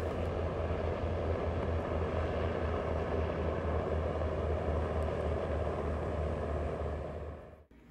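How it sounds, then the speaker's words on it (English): A steady, low engine drone with rhythmic rotor thumping from helicopters flying nearby, continuous throughout and fading at the very end. "here's a couple of cool helicopters"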